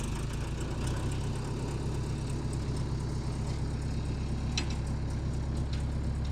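An old barn-find bulldozer's engine runs steadily after starting, a low, heavy, pulsing diesel idle that stays even and close throughout with faint clatter above it.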